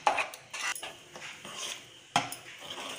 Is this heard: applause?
no